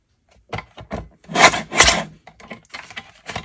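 Blades of a paper trimmer or scissors cut a 6x6 pad of paper into one-inch strips: a series of dry, rasping cuts and rustles, two longer strokes in the middle, close up and with no speech.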